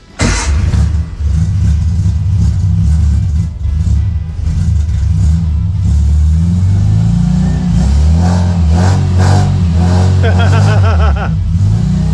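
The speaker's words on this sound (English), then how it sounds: "And this is the starter. And it takes a minute." An old 1961 Austin Healey Bugeye Sprite engine cranks, catches and revs up, settling into a loud rumbling idle with further throttle blips, close by.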